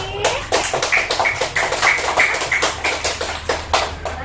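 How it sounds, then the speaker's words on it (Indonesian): Students in a class clap for themselves, a fairly rhythmic run of sharp hand claps repeating about every third of a second, close and steady for several seconds. "Beri tepuk tangan dulu untuk diri sendiri."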